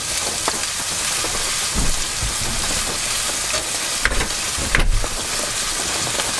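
Steady rain pours outdoors during a storm at an RV campsite, a constant broadband hiss with a couple of low rumbles near the start and two sharper thunder cracks around the middle, no talking.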